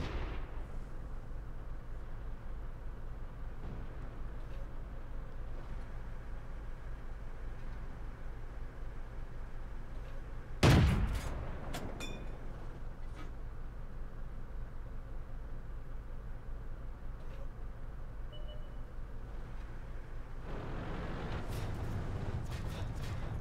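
A single heavy tank cannon shot in World of Tanks, a Pz IV A firing and penetrating the front of an enemy 1C, booms sharply midway through a steady loud hiss of engine and battle ambience, with no talk.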